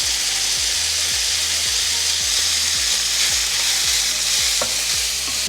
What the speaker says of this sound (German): Dann Zwiebeln und Knoblauch mitdünsten.